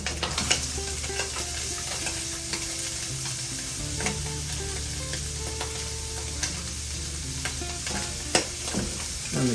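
Leeks and onions sauté in sausage grease while being stirred in a pan for stuffed peppers: a steady, close sizzle runs throughout, with scraping and stirring clatter and a few sharper knocks.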